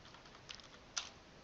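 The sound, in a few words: typing a password on a computer keyboard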